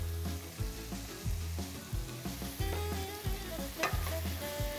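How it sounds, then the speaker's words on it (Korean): Sliced onions fry in a hot pan over medium heat for mazesoba, a steady sizzle broken by rhythmic scraping and stirring strokes, close and fairly quiet, with no talking. "이제 어느 정도 퀵기 없어지면 썰어둔 양파를 넣어줄게요."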